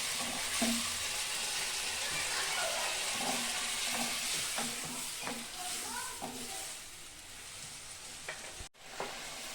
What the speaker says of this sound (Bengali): এখন আমি জল দিয়ে দিব